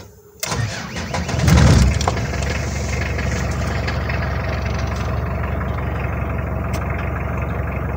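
A diesel car cranks and catches after its glow plugs have warmed, with a brief surge of revs, then settles into a steady, loud, close idle with an even clattering rumble that continues for several seconds.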